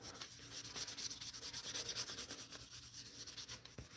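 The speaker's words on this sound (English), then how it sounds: "And you notice as I sand this primer's kind of got like a green tinge to it." A model coated in green-tinged primer is hand-sanded in quick, even back-and-forth strokes, producing a faint, rhythmic rasping that stays close and steady.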